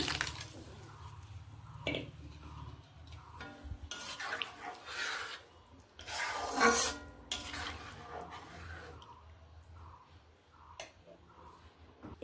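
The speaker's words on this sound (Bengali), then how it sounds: "ভালোভাবে এইভাবে নেড়ে নিচ্ছি, মিশিয়ে নিচ্ছি এইভাবে নেড়ে।" A spoon stirs red lentil dal with fried vegetables and water in a cooking pot, making irregular clinks, scrapes and soft sloshes at moderate closeness, with a few sharper knocks against the pot.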